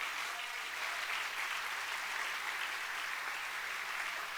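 Applause from a church congregation during a worship service, a steady, fairly faint wash of clapping continuing throughout with no one speaking over it.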